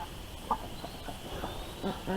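Meat chickens cluck in short, scattered bursts close by on a farm, a few soft calls rising over steady background noise.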